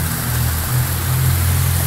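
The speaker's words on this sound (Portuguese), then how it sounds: "gente, que chuvarada. Aumentou mais ainda." Heavy rain pouring steadily in São Vicente, a continuous broadband hiss of water with a low rumble underneath, no voices, loud and unbroken throughout.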